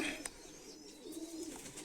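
Pigeons coo softly in a loft of racing birds, faint low calls with a few brief higher chirps, no voices.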